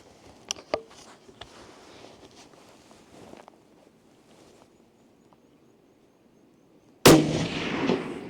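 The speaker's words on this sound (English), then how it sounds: "I'm just going to have a quick shot at the 25 metre" A single sharp, loud rifle shot cracks out at a 25 metre range, standing alone at the end after a stretch of quiet outdoor rustling and faint knocks.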